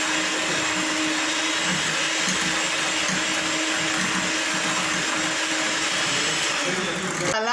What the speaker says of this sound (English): I'm going to cream my sugar and oil and butter till it's fluffy